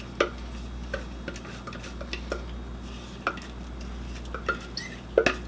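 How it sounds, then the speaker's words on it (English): Pineapple, sugar and vanilla being mixed for a cranberry fluff, heard as light, irregular clinks and taps of a utensil against a bowl over a low steady hum, with no talking. "we'll add our pineapple and our sugar and the vanilla, and we'll mix that well"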